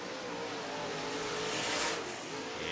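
A MARS late model race car engine at Fairbury Speedway roars steadily as a continuous broadband drone, swelling slightly as it passes nearer, with no talk over it.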